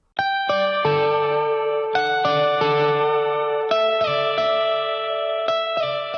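MIDI electric guitar chords through an amp simulator ring out with a polished, compressed, EQ'd tone and a wash of reverb, several strums sustaining and overlapping without any voices.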